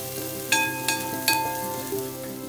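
Chopped garlic and ginger frying in a pan for pork adobo, a soft sizzle under faint tonal background music, punctuated by three or four sharp utensil clinks or stirs, close and fairly quiet.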